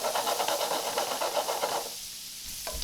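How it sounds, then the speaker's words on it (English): Shrimp sautéing in oil in a pan being shaken, a steady frying hiss with rhythmic scraping pulses that thins out and softens toward the end. "I'm just shaking the pan a little bit."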